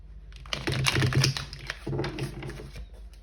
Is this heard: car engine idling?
no